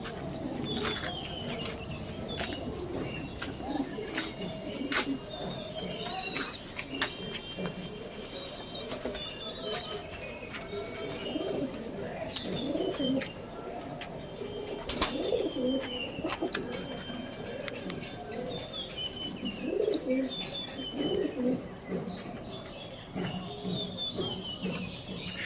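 A flock of healthy pigeons kept for sale in Canning, South 24 Parganas, West Bengal coo continuously in overlapping low phrases, mixed with wing flaps, scuffling and occasional sharp clicks, all close and steady throughout.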